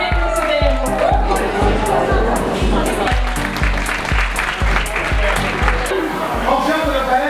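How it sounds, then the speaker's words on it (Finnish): A crowd applauds for Teemu at a Christmas event, loud and sustained clapping mixed with cheering and babble of voices throughout. "Teemu aplodit"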